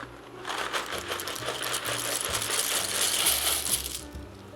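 Dry pasta poured from a box into a pot for pasta and broccoli soup, a dense continuous rattling clatter of hard pieces lasting several seconds, close and steady with a low background hum and no talking.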